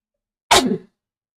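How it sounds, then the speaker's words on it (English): One sharp, loud sneeze bursts out close to the microphone in an otherwise silent moment during a livestreamed coding session. "Why do I keep sneezing in streams?"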